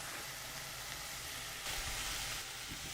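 Rice is added to sweet peppers frying in a pan, giving a steady, loud sizzle with a brief surge of crackling partway through.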